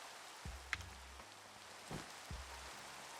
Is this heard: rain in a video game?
yes